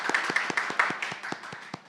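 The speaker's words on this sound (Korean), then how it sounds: "그 큰 박수로 맞이해 주시기 바랍니다" Clapping welcomes a speaker at an academic sociology symposium, a brisk run of evenly spaced, sharp claps from a small audience, close and moderately loud.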